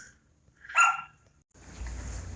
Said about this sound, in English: As if you can't hear Bandit yiping.